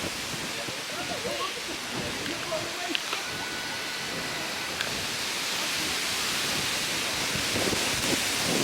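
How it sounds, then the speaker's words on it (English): Strong wind blowing at an overlook above an old sandstone quarry on an island in Virginia, a steady loud roar of gusts buffeting the microphone throughout, with faint voices underneath. "Very windy, as you can tell."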